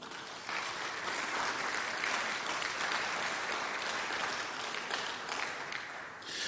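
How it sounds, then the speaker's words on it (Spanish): A church congregation applauds together during a sermon, a steady, dense wash of clapping that holds for several seconds with no voices over it. "Da un aplauso al Señor."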